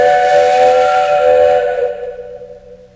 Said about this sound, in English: At last they heard a whistle in the distance.